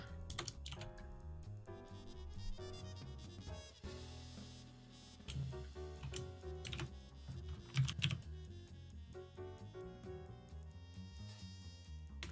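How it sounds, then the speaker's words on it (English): Rapid typing on a computer keyboard, a dense, steady patter of clacking keystrokes with occasional louder bursts and brief pauses, close and continuing throughout. "Typing ASMR streaming."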